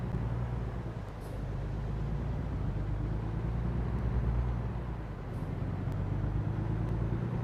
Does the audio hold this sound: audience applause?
no